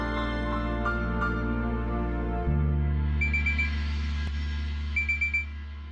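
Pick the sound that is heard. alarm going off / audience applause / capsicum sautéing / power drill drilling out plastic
alarm going off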